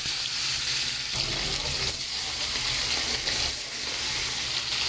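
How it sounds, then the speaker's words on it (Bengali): Bhola fish fry in hot oil in a wok over low gas heat, giving a steady, close hiss and sizzle that runs continuously without talk. "এইবার আমি মাছগুলোকে একে একে সব তেলের মধ্যে ছেড়ে"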